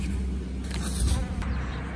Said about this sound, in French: je vais secouer les abeilles qui sont dans le nourrisseur